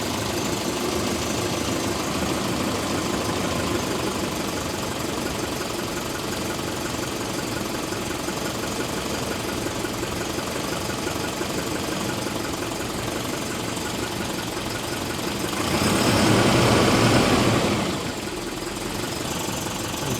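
An engine idling at low revs, a steady rough mechanical rumble with a faint knocking texture, swelling briefly louder near the end before settling back.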